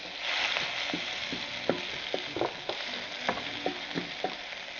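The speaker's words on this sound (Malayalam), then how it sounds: "ഇനി ഇതിലേക്ക് ചതച്ച് വെച്ച നമ്മൾ പച്ചമുളകും ചെറിയ ഉള്ളിയും കറിവേപ്പിലയും വെളുത്തുള്ളിയും കൂടെ ചതച്ച് വെച്ച് നമുക്ക് ഇട്ട് കൊടുത്ത് നന്നായിട്ടൊന്ന് മൂപ്പിച്ചെടുക്കാം" Crushed green chili, shallots, curry leaves and garlic fry in oil for Kerala-style beans mezhukkupuratti. A steady close sizzle runs throughout, broken by repeated soft clicks of stirring.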